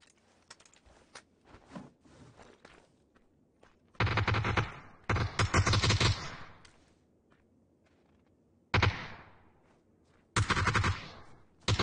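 Video game gunfire in bursts: scattered light shots, then loud sustained automatic volleys, a pause, a single heavy burst and another loud volley, close and sharp with quiet gaps between.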